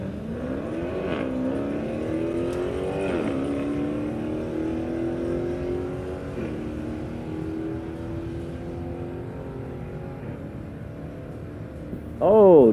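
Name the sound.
drag racing cars, 96 Corvette and 2016 Challenger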